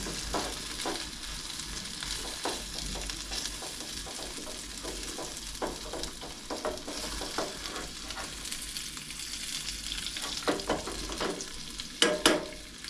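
Food simmering and sizzling in a pan over a camp stove at a survival campsite in an abandoned structure, a steady close crackle broken by scraping stirs and a few sharper clinks near the end.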